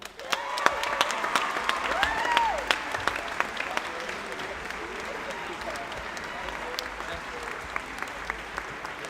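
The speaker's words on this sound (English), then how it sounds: "A big round of applause for all of those new leaders." An audience at the Project Hope Strut For The Cure 2019 event breaks into sustained applause that fills the room, with scattered claps popping out of a steady wash.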